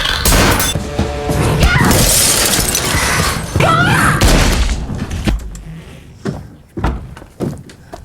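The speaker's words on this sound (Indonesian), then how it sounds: "beberapa tembakan terdengar dan jendela pecah" Gunfire erupts in a film scene and a window shatters, a dense burst of loud bangs and crashing, breaking glass, followed by scattered sharper impacts and debris clatter as the noise thins out.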